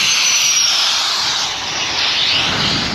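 Air rushes steadily out of a kitesurfing kite's opened deflate valve in a loud, continuous hiss that stays close for its full length, with no talk over it.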